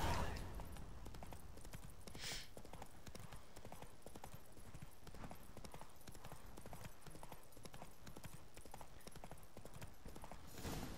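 Roach's horse hooves in The Witcher 3 clip-clop in a steady, continuous rhythm, with a brief whinny-like burst near the start and another near the end. There is no talking.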